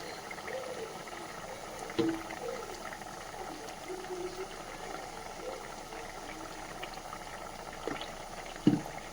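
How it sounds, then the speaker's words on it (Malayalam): Anchovy thoran simmers in a pan as its water boils off, giving a steady, quiet bubbling hiss throughout with a couple of soft clicks, and no voices. "നമ്മുടെ നെത്തോലിത്തോരൻ നല്ലപോലെ തിളയ്ക്കാൻ തുടങ്ങിയിട്ടുണ്ട്."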